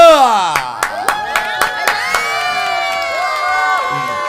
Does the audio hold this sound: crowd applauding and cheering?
yes